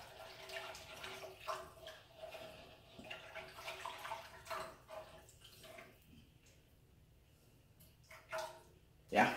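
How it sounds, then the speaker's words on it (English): Milk pours into a chicken pot-pie filling of onions and flour in a pot, a soft liquid trickle and splash under a low, intermittent voice, fading near the end. "And then I'm going to add a little bit of milk, probably roughly a cup."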